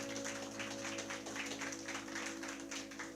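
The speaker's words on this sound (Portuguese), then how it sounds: "Dê um aplauso a Jesus." A church congregation at a Sunday family service claps together in a steady, fairly faint round of applause. A low steady hum sits underneath, and no one speaks over it.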